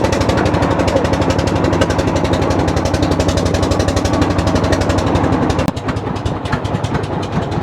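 A boat engine thumps steadily and loudly while the crowded boat crosses the Rupsa river, a fast rhythmic chugging close at hand that drops in intensity near the end.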